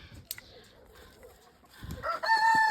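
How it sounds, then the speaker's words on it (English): Backyard chickens cluck softly in their pens on a farm, then a rooster crows loudly and close, a long clear call that ends the clip. "Hi, chickens."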